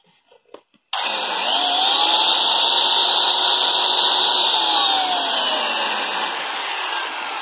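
A Japanese 100V handheld power tool with a 125 mm disc switches on after a few small clicks and runs at a loud, steady high-pitched whine, close up, holding constant for several seconds with no talking.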